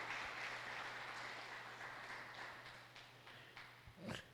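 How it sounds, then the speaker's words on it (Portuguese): Congregation applauding during an online Sunday communion church service, a steady wash of many hands clapping at moderate distance, thinning toward the end with a few louder claps. "Eu posso ouvir um aplauso a Ele?"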